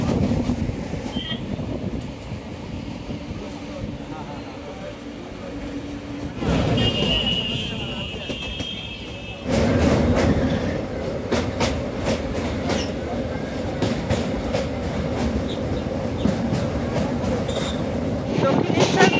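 A passenger train runs near Dum Dum, Kolkata, heard from on board as a loud, continuous rumble with rhythmic wheel clatter and a brief squeal, the noise swelling partway through.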